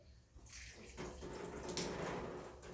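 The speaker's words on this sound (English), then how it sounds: "open test cock number 4," Water trickling from an open test cock on a backflow prevention valve, a faint, steady splashing flow that starts after a brief quiet moment and continues without a break.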